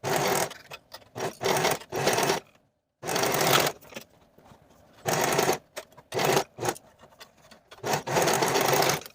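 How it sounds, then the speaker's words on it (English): A sewing machine stitches quarter-inch seams joining the side waistband pieces of Flex leggings, running in loud steady bursts separated by short pauses, close up with no talking. "And then sew both of those seams with a 1/4 inch seam allowance."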